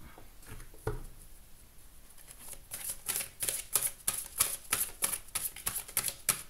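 A deck of tarot cards being cut and shuffled by hand, a dense run of crisp papery riffles and flicks that starts sparse and grows into rapid, close patter, no speech.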